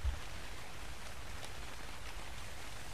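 Steady rain falling in the survival game Ark Survival Evolved during a darkened daytime storm, an even, continuous patter of drops with no voices over it.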